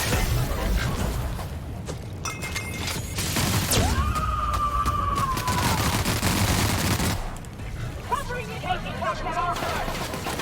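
Gunfire in The Outer Worlds video game: repeated loud shots and bursts mixed with crashes and game effects, with voices speaking over the action throughout.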